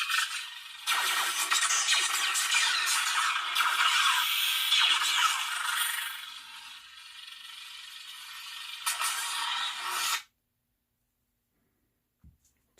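A Beetlejuice-themed lightsaber with a CFX soundboard plays its smooth swing effect, a loud, harsh, buzzing high-pitched hum that surges and fades through a long swing, then cuts off abruptly into silence.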